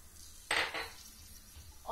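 Vegetables hit hot olive oil in a pan with a short burst of sizzle, followed by a quieter stretch and a brief clink of cookware near the end.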